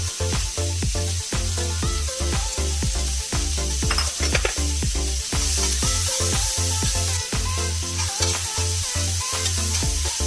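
Onions sauté in butter in a pan on the stove, giving a steady, close sizzle with soft stirring scrapes and small pops throughout, no voices.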